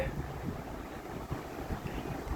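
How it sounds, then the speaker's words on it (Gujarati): A cool breeze blowing outdoors rushes steadily across the microphone as continuous broadband wind noise that lasts the whole moment, with no voices. "મસ્ત ઠંડો પવન આવે છે"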